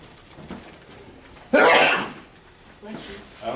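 A single sharp sneeze bursts out loudly in a quiet meeting room, with faint murmuring voices before and after.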